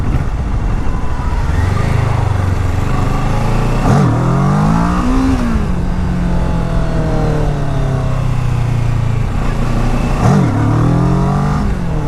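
A 2015 Kawasaki Ninja 650R motorcycle engine revs and accelerates up through the gears, pitch climbing and dropping with two clear shifts, loud and close throughout with no talk.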